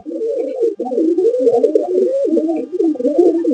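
Pigeons coo in a continuous, rolling stream of low throaty calls, close by and steady throughout with no talking.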